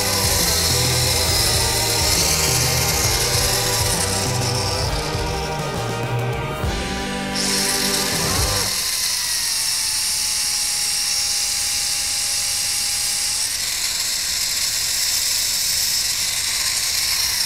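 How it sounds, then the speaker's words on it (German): A power drill boring a hole runs loud and steady, its whine shifting pitch partway through, then settling into a lower continuous hum. "Das mache ich jetzt, das Loch bohren."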